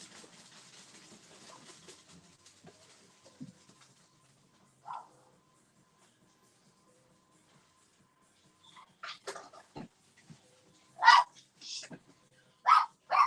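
A house dog barks several times in short, sharp bursts, loud and close, after a stretch of near silence and some faint whimpering or yipping earlier.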